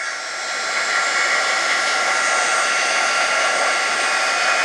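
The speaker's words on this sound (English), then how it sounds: "sure I got a good hot heat gun so I get a nice even melt." A hot heat gun blows over embossing powder to melt it, giving a steady loud whooshing fan-and-air hiss that holds evenly from start to finish, close to the microphone and alone.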